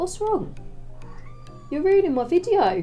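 A cat meows loudly several times, drawn-out and whiny cries close by, with a person speaking briefly between them.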